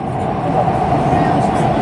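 A steady, loud rumble of a metro train running through a tunnel under the Ganges river between Howrah and Sealdah, a continuous roar with no breaks.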